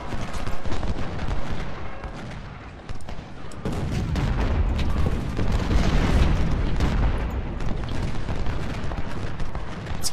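Rapid bursts of gunfire from the video game Ultimate General: Civil War crackle and boom continuously, dense volleys layered over a rumbling battle din, with a brief dip before the shooting intensifies again.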